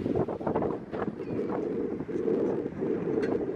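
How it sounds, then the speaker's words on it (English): Strong gusts of wind buffet the microphone outdoors on a very windy day in Los Angeles, a steady low roaring rumble with no pauses throughout. "Very, very windy day out here in Los Angeles today."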